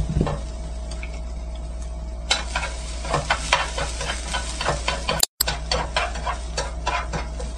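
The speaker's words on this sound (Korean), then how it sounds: "다음 도라지 볶으실 때는 온도에 유의하면서 볶아줍니다." Rinsed bellflower root (doraji) stir-frying in a very hot pan, a steady close sizzle with irregular taps and scrapes of a utensil against the pan, with one abrupt brief cut in the sound.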